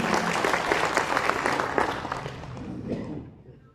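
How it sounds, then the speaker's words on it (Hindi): An audience at an award recognition gathering breaks into steady, full applause that holds strong for a few seconds and then fades away to quiet. "तो अगर हो सके मुमकिन तो इसका ताली बजा दें"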